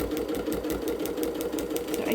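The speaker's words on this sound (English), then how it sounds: "I'm just sewing through the solvy." A sewing machine stitches a plain stitch through soluble stabiliser on upcycled fabric patches, a steady, fast, even mechanical rattle running continuously and close.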